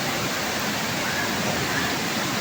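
Water runs from springs seeping along the banks beside a muddy creek in the rainy season, a steady, close rush that fills the clip without a break.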